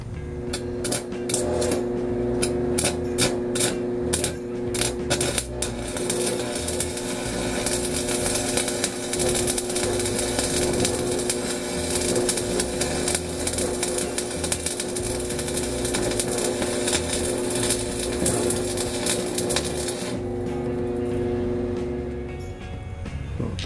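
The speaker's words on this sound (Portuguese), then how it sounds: "Então eu vou conseguir fazer um cordão de solda." Electric arc welding laying a continuous bead on thick steel plate, a loud, steady, close crackling hiss with sharp sputtering pops, running unbroken for about twenty seconds before cutting off.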